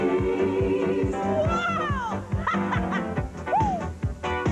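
A cat in a Friskies cat food TV commercial meows several times over a bouncy jingle-like backing, with snickering laughter woven through.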